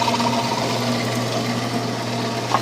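Band saw running with its wheels spinning, a steady mechanical hum and whir close by with a faint rattle, constant throughout, no talk.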